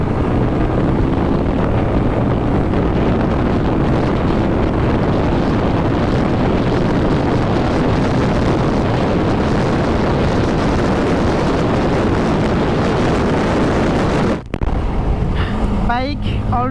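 A GPS Demon motorcycle cruises along a road near Tungipara, its engine drone buried under a constant heavy roar of wind buffeting the microphone, which briefly drops out near the end.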